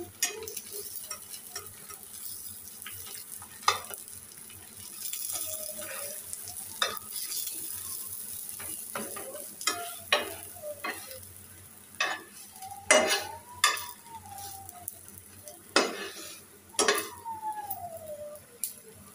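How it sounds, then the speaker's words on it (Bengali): Egg frying in a lightly oiled pan alongside parathas, a quiet steady sizzle broken by intermittent scraping, tapping and clinking of a spatula against the pan, close by with no talking. "এই দেখো ডিম ভাজি করে নিচ্ছি।"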